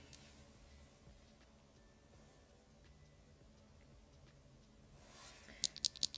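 Echo Cream Black mechanical keyboard switches on a budget keyboard build are pressed, giving a handful of soft, close clicks in quick succession at the end after several seconds of near silence.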